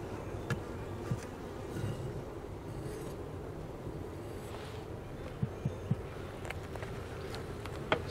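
Honey bees swarm around an open, queenless hive, making a steady low buzzing hum mixed with light wind, with a few soft clicks and taps scattered through it.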